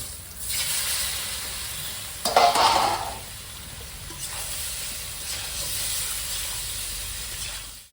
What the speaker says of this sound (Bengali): এই তেলেই কচিগুলো ভেজে নেব